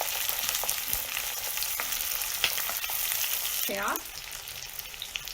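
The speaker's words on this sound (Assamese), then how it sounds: "দিয়াৰ পিছতে মই পিঁয়াজ দি এয়া লৰাইছোঁ" Onions frying in oil with garam masala for a village-style Assamese dish, a steady close sizzle with occasional stirring knocks, and a short spoken word partway through before the hiss softens slightly.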